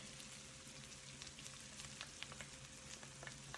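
Onion and garlic stir-frying in rippling hot oil in a wok for a Filipino chicken and noodle dish, a steady soft crackling sizzle with scattered pops and a faint low hum beneath.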